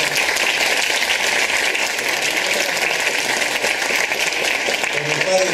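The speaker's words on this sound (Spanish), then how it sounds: "También les quiero un fuerte aplauso al padre Chema." A school anniversary audience at a preparatory college claps loudly and continuously for a priest, in a dense and even wash of applause with some voices underneath.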